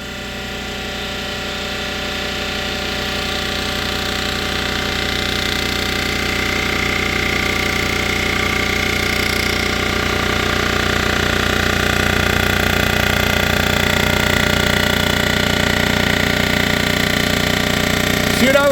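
A machine taking a one-thousandth-inch cut off a warped Briggs & Stratton 6 hp engine part, a steady loud whining mechanical drone with tonal hum that builds slightly and holds, ending with a brief squeal.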